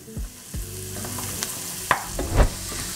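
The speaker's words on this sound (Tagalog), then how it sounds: "Gisahin lang natin to maigi." Garlic and beef sauté in a hot pan, a steady sizzle with a spatula scraping and stirring in several distinct knocks and scrapes, close by with no talking.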